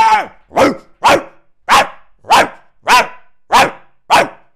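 Dogs in a video game bark loudly and close by, eight sharp barks in a fairly regular rhythm about half a second apart, with nothing else heard between them.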